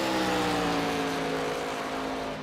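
Race car engines in a racing video game set at Homestead-Miami, a steady loud droning roar with sustained harmonic engine tones, several cars blending into one continuous whine with no talking.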